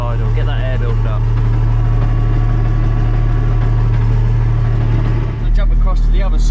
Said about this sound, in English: just a touch of hand throttle, bit of a fast idle, get that air building up